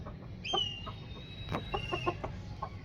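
An Aseel Burmi rooster clucks in short bursts nearby, with one higher squawk, over a low background hum.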